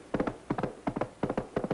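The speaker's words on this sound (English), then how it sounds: "Now we have the horse's hoofs." Radio sound effect of a horse's hoofs, rendered as a quick, rhythmic clip-clop in a galloping pattern of grouped triple beats, close and crisp, repeating steadily over the short stretch.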